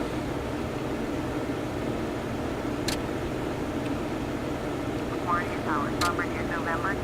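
An ERJ-145 regional jet cruising in Flight Simulator X, a steady broadband engine and airflow roar filling the cabin throughout, with a couple of short clicks and faint chirping tones near the end.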